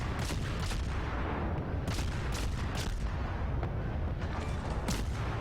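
Battleship gunfire in the naval video game World of Warships booms repeatedly, with several heavy shots spread irregularly across a dense, constant rumble of engine and sea noise; no one speaks.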